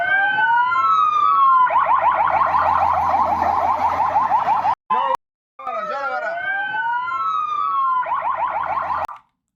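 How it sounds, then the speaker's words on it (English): Ambulance siren wailing past amid war-zone footage in Lebanon, loud and close, sweeping up and down then switching to a rapid yelp, briefly cut off midway before the wail and yelp return. "Anytime we have ambulances going by in a video, it's always extremely loud"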